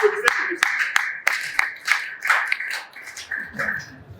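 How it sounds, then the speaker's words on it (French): An audience clapping in sparse, uneven bursts, a handful of distinct claps ringing out near and fairly loud, with a voice briefly heard underneath. "Applaudissez pour"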